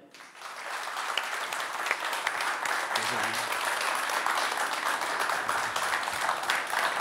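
An audience applauds to welcome the town mayor at a ribbon-cutting event, continuous dense clapping building quickly and holding steady, with faint voices mixed in beneath.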